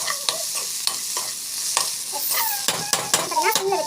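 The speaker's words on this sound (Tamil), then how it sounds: "நல்லா வந்து வதக்கி எடுக்கோங்க" Onions sautéing with salt, chili and turmeric powder crackle in a hot pan while a utensil repeatedly scrapes and taps through them, close and fairly loud.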